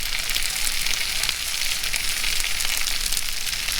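Food sizzles and fries steadily over a campfire at a fall campsite, a dense, continuous crackling hiss that stays close and fairly loud with no talking.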